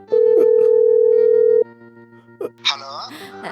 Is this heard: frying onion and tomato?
no